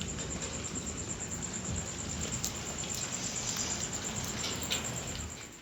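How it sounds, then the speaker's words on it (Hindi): Light rain falling after a heavy downpour eases, a soft, even patter of drops that holds steady and fairly quiet throughout, with a faint high-pitched tone in the background and no voices. "बारिश भी कम हो गई है।"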